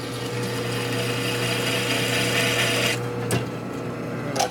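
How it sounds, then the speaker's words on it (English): A hand deburring tool chamfers the inside edge of a 1965 Harley-Davidson Panhead 74ci FLH engine part, giving a steady close scraping rasp over a constant machine hum, then a couple of sharp clicks near the end. "Get the old deburring tool here, right there."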